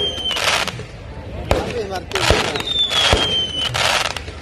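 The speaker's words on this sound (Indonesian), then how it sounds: "kembang api yang juga hadir di atas langit Kabupaten Biren tentunya Menghiasi malam hari ini" Fireworks burst over the night sky at the opening of the Aceh International Percussion 2019 festival, a string of sharp cracks and booms with whistling trails, fairly loud and close.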